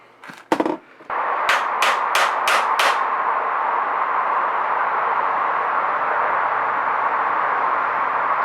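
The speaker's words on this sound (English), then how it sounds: "We'll take this hammer." Five quick, sharp hammer strikes in a row during repair of a Mongoose Expedition bike's rear derailleur, with a couple of scattered knocks before them, followed by a steady noisy background hum.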